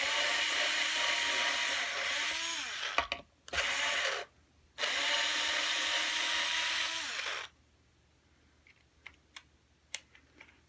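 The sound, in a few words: drilling holes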